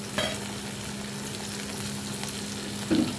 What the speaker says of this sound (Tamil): போட்டு கொஞ்சம் கருவேப்பிலை சேர்த்து நல்லா வதங்கணும் வெங்காயம் வந்து நல்லா வதங்கணும்